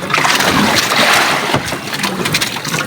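Large storm waves surge around a small boat at sea during a strong typhoon near the island of Imuruan, a loud, close, continuous roar of rushing water and wind buffeting the microphone, with no voices.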